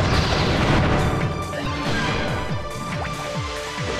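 A Gatling gun in the Custom Robo video game fires as a loud, rapid run of close, repeated booming shots over game noise, with a dense rhythmic burst pattern continuing throughout.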